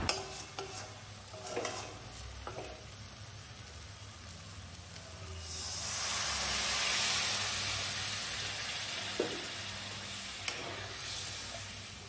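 Prawn malai curry gravy with coconut milk sizzling in a pan over raised flame while a spoon stirs it, scraping clicks early, then a loud surging hiss and bubbling that swells midway and settles, no talking.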